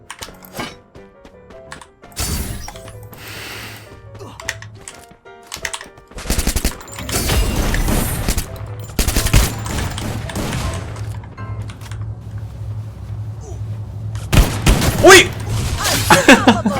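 Repeated bursts of rapid gunfire from a Free Fire battle royale match, loud and close, with a booming sniper shot among them, broken by short quiet gaps and some game sounds.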